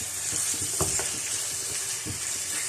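Marinated chicken sizzles and fries in a karahi of fried onions, a steady broadband hiss with scattered clicks and scrapes as the pieces are stirred and mixed, close and continuous with no talk.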